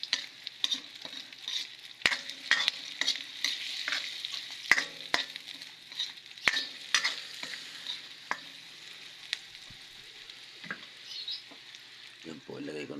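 Leftover dish from last night frying in a pan, with a steady hiss of sizzling oil broken by scraping and clattering stirring strokes, close and fairly quiet, with no talking.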